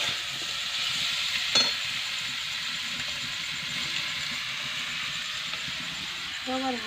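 Meat stirred and frying in a pan, giving a steady broadband sizzle with occasional scrapes and clinks of the spoon throughout.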